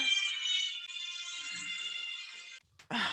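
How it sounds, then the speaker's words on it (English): A mobile phone ringtone playing The Godfather theme, a steady bright melodic tone that sounds continuously for about two and a half seconds, then cuts off briefly before resuming. "My husband's phone, the Godfather."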